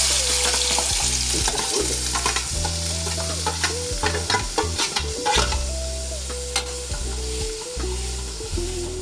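Two small onions and a tomato frying in coconut oil in a Kerala cheenachatti for egg curry, a loud continuous sizzle with frequent clattering stirs of a spoon against the pan, nearby and with no talking.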